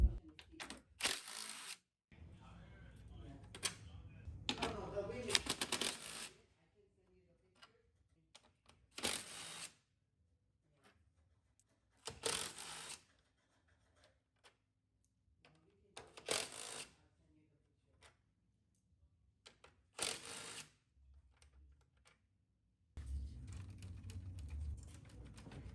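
Metal 10 mm screws are backed out from under a Ford Edge front bumper cover, a series of sharp clicks and rattling bursts separated by quiet pauses, close up.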